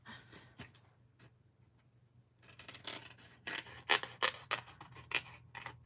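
Sharp scissors cut through Glad Press and Seal plastic wrap in a series of crisp snips and rustles, faint at first and then a quicker, louder run of close cuts with no talk.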